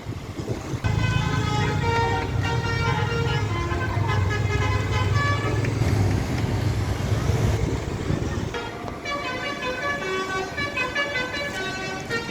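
A Kurnia AW03 Predator Malam bus pulls away at the Batoh bus terminal, its engine rumbling loudly amid busy terminal noise, with layered horn toots sounding throughout and other vehicles nearby.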